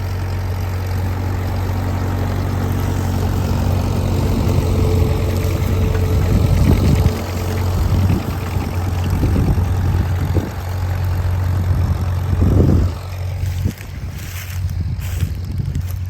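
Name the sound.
Farmall M tractor engine pulling a plow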